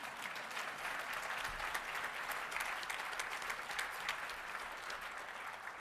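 Conference audience applause in a hall, an even wash of many hands clapping at moderate distance, steady and unbroken throughout.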